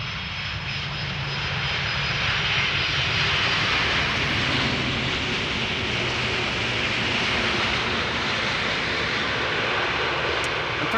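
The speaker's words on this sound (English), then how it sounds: "Turkish is doing a KLM style landing" A Turkish Airlines jet lands on a moist runway at Amsterdam Schiphol airport, a loud, steady, broadband engine roar that holds unbroken throughout, with no talk.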